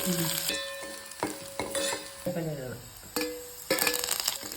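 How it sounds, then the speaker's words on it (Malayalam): Dried red chilies and curry leaves sizzle and crackle in hot oil in a pan, with repeated stirring scrapes and occasional clinks of a utensil against the pan, close and busy throughout. "വറ്റൽമുളക്, കറിവേപ്പില എല്ലാം മൂത്തിട്ട് കറിവേപ്പില ഇടാം"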